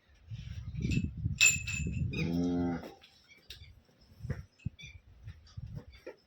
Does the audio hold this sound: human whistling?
no